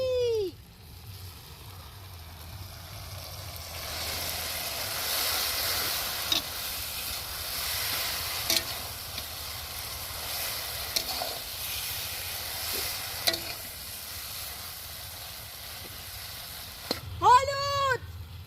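Green chillies and goat fat sizzling in a hot pan, a steady loud hiss and crackle running throughout, with occasional sharper spits and a brief clatter near the end.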